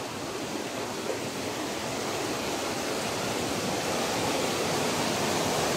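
Rushing, churning river water in a forest, a steady broadband roar of flowing current that swells slightly louder over several seconds, with no voices.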